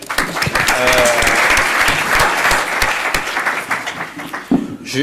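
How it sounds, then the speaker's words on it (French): A conference audience at a panel on carbon transition mapping applauds a speaker, a loud, steady, dense burst of clapping for about four seconds that thins out at the end. "On peut déjà l'applaudir."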